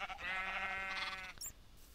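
A single sheep in a farming video game gives one clear, wavering bleat lasting about a second, followed by a brief faint click.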